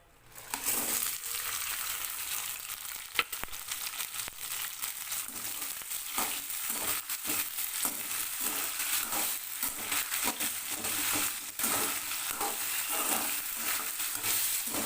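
Ingredients for drumstick leaf chutney frying in oil in a pan, giving a continuous quiet sizzle with light crackles and occasional stirring sounds across the whole stretch; no voices.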